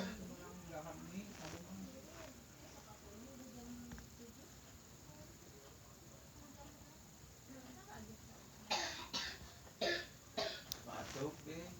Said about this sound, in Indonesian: Batuk deh.